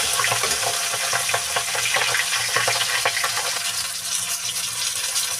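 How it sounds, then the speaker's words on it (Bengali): A fish head fries in hot oil alongside frying chillies while shukto is being made, giving a loud, steady sizzle with crackling spatters and occasional stirring scrapes close by. "এই পাশে মাছের মাথাটা ভাজা হচ্ছে"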